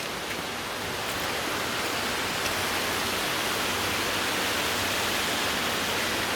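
Arroyo de Valdecésar rushing down a rocky gorge near the Nocedo waterfall, a steady, dense, close roar of flowing water with no pauses and no voices.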